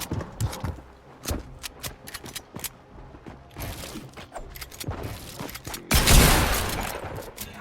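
Gunfire in the Fortnite video game comes as a string of sharp, irregular shots and clattering impacts, with a louder burst near the end and no talk over it.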